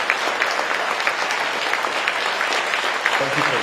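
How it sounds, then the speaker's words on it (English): A loud round of applause for the president at a foreign ministry Lunar New Year gala, many hands clapping steadily and close, with a voice briefly audible near the end. "give our president a big round of applause"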